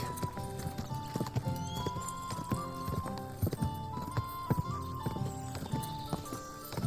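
Rhythmic hoofbeats of a video game horse in Kingdom Come: Deliverance II clip-clop steadily over a background of music, with a whinny rising among them.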